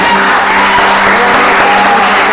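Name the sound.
congregation applause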